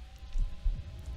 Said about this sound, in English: I can hear my heart.